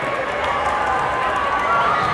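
A basketball crowd roars in cheers at a state championship game between Trinity Christian and Central Fellowship, a loud, steady wall of voices and shouting sustained throughout without a break.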